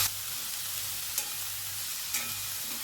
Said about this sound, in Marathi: आपण गॅस मोठा केलेला आहे, मोठ्या गॅसवर परतून घेतोय